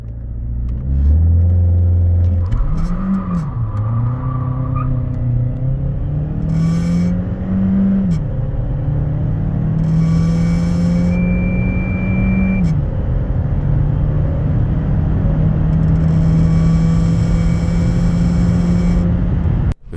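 A BAIC Beijing 7 SUV with a 1.5 T-GDI engine and dual-clutch gearbox revs hard with wheelspin and climbs through several gears, the pitch rising and dropping with each shift under a constant roaring drone.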